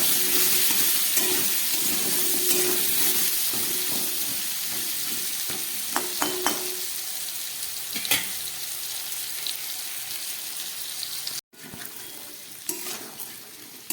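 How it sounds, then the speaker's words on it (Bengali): Pumpkin and potato pieces frying over low gas with salt and turmeric, a steady close sizzle and hiss with occasional scraping stir strokes, fading slightly over time. "এই নুন আর হলুদ দিয়ে কুমড়ো আলুটাকে আমি খুব ভালো করে গ্যাস কমিয়ে ভেজে নেব।"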